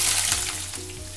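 Ginger and garlic sauté in oil for watermelon rind pickle, a short burst of close, steady sizzling with soft crackle and a faint low hum beneath.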